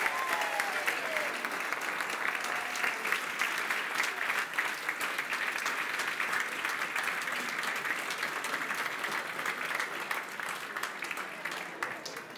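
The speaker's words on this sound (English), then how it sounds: "an enormous round of applause" A large audience at a charity charter auction breaks into sustained applause after the final lot sells at £10,000, dense steady clapping holding at full strength throughout, with a few faint voices mixed in.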